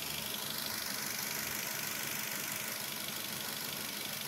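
A Toyota Avanza 1.5 engine idles steadily after a battery replacement, a low, even rumble and slight rattle, continuous and close by, with no voices.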